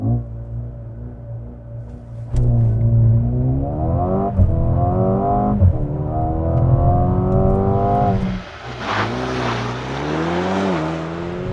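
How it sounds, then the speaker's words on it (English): A 2021 Mercedes-AMG GLA35 4MATIC with a 2-liter turbo four-cylinder launches using race start, the engine droning loudly and climbing through several gear changes, heard close from inside the cabin with no talking. "'21 Mercedes-AMG GLA. 35 4MATIC with race start."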